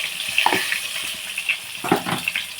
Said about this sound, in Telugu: స్టవ్ వెలిగించి ఆయిల్ పెట్టి ఇందులో కొంచెం పసుపు వేసుకున్నాను ఈ గుడ్లు వేపేసుకున్నామండి